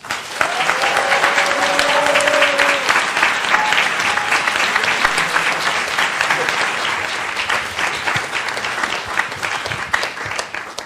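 A live audience at an evening author reading in Philadelphia breaks into sustained, dense applause that stays loud and steady for about ten seconds before tapering slightly, with no voices over it.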